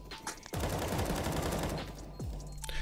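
Rapid automatic gunfire in Counter-Strike 2 on a Cybershoke server, a sustained close burst of shots followed by a second shorter burst, loud and without talk.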